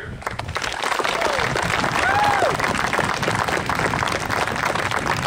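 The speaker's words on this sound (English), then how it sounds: "I'd like to give a round of applause to all the Cass employees over this past 50 years" A crowd at the Cass Scenic Railroad 50th anniversary ceremony gives a full round of applause for the railroad's employees, with steady dense clapping and some voices mixed in throughout.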